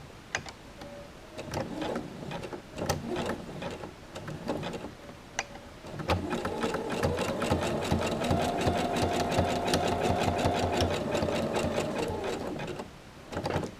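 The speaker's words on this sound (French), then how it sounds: "je vais faire donc tout le surjet autour de la poche et le long de la jambe avec mon zigzag" A sewing machine runs a zigzag overlock stitch around a trouser pocket and down the leg, first in short separate bursts, then as one steady, close mechanical whir that stops near the end.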